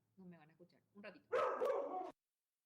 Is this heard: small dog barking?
yes